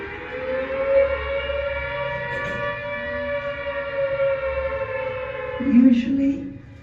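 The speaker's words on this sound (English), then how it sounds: "You would hear the siren, that could be heard anywhere" A World War II air raid siren wails in a long, steady sustained tone with a slight rise and fall, loud and continuous across the whole stretch, with some faint background murmur underneath.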